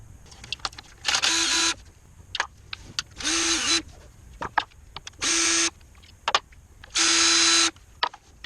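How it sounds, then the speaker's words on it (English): Power tool loosening the oil pan bolts on a BMW E46 xi, four separate whirring bursts of roughly half a second each, close and loud, with small clanks and handling noises in the gaps. "So I'm going to loosen all the bolts, and then I'm going to take most of them out"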